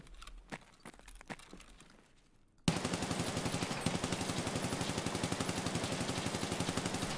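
Sustained rapid automatic gunfire from a full magazine dump in Escape from Tarkov, a loud, dense stream of evenly spaced shots that begins abruptly after a few seconds of quieter ambient sounds and continues steadily to the end.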